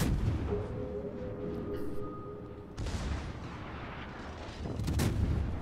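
Heavy naval guns firing armor-piercing shells in the World of Warships game, deep booming blasts with rumbling tails, one loud salvo near the start and others later, with a voice talking underneath.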